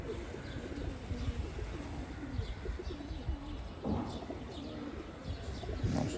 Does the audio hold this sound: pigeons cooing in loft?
yes